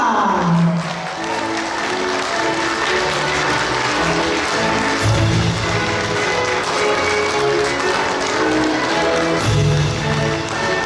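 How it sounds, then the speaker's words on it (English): A banquet room crowd at a Lions Club appreciation luncheon breaks into steady, sustained applause for a past international director, dense clapping filling the whole stretch with a few faint voices mixed in. "How about a big round of applause to PRD Ken Ibarra"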